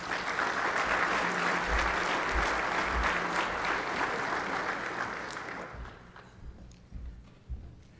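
Warm audience applause at a 2017 administrators conference as speaker Kristin Anderson is welcomed, steady and full before fading out into a few scattered claps and footsteps.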